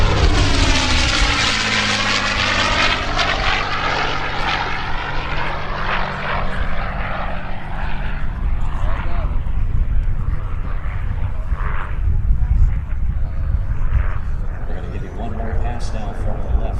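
A P-51D Mustang propeller fighter flies past at an airshow at Quonset, Rhode Island. Its loud piston-engine roar sweeps overhead with a falling Doppler drone, then fades to a steady distant rumble.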